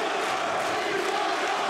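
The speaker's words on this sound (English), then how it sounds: "the crowd here at the Pali Ipir with chants of Italia" A kickboxing crowd at a GLORY event in Milan chants Italia: dense, continuous roar of many voices filling the arena, loud and unbroken.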